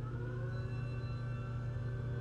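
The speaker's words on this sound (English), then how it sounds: "That's like siren?" A wailing siren from the video game Clock Tower 3 drones steadily and loudly for the whole stretch, layered with sustained low hum and tonal bands, with no talking over it.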